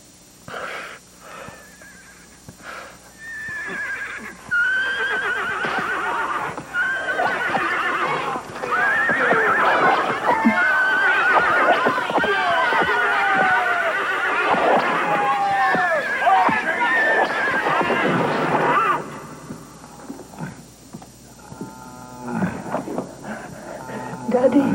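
A horse whinnies and neighs repeatedly with wheezing snorts, hooves clip-clopping close by, loud and agitated through the middle before falling away to quieter background.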